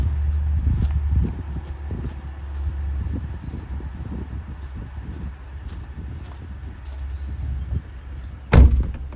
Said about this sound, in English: Let me go close my doors.